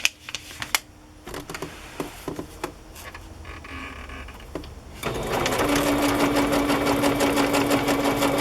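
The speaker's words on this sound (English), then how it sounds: "I wonder if I can keep everything in place while I sew it down" A sewing machine stitches down a paper journal page, first with scattered clicks and short bursts, then a steady close mechanical whir running continuously for the last few seconds.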